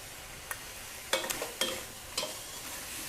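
Squid stir-frying in red curry paste in a wok over the highest flame, with a low steady sizzle broken by a few sharp spatula scrapes and clatters, no talking.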